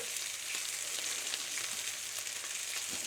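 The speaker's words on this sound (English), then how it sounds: "I just want to get my bacon a bit more crispier" Bacon crisping in a frying pan makes a soft, continuous crackling sizzle with scattered small pops, fairly quiet and heard alone.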